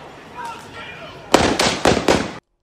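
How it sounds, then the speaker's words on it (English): Three loud, sharp gunshots fire in quick succession, each cracking out with a short echo, after faint background murmuring. "Now get prepared because these are going to be the gunshots."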